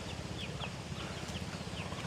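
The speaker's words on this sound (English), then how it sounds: "Chickens, baby chickens." Soft high peeping from baby chicks in a Philippine province, repeated chirps over a low steady outdoor rumble.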